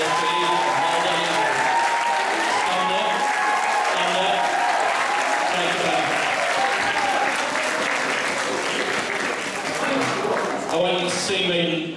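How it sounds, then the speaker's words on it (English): A school assembly crowd gives a long, steady round of applause, dense clapping that carries on unbroken for several seconds, with a voice briefly heard near the end. "So can we have a special round of applause for you?"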